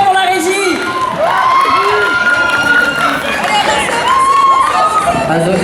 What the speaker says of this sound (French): on peut les applaudir parce qu'on les oublie trop souvent, la régie. Big up pour la régie.